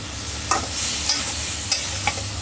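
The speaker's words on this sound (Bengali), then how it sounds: "করলাটাকে আম্মু এখন কষায় নিচ্ছে" Bitter gourd sautéing in a pan, a continuous soft sizzle punctuated by four evenly spaced scrapes of a spoon stirring the vegetable, close by and without any voices.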